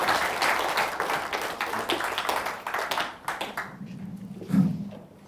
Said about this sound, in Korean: 다 같이 뜨거운 박수로 맞춰주시기 바랍니다